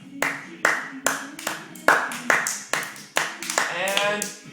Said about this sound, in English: And let's clap